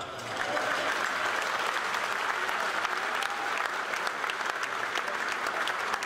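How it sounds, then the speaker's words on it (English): Sustained applause from a large audience, steady and dense clapping filling the whole stretch, with faint crowd murmur mixed in. "keep the applause going"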